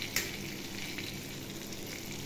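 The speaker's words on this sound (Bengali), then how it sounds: "তেল গরম হয়ে গেছে, আমি মাছটা ভেজে নেব।" Katla fish pieces coated in salt and turmeric sizzle in hot oil, a brief, even frying hiss heard close up with no talk.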